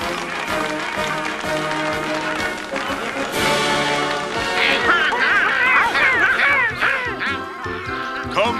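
Cartoon geese honking and quacking loudly in a busy, chaotic burst at a sidewalk dedication, layered over a full orchestral music score that swells and flutters throughout.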